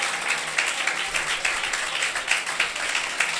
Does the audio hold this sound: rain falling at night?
no